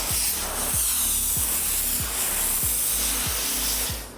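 Steady hissing spray of cleaner onto Jeep wheels runs continuously at close range, with a low mechanical pulsing underneath and no talking.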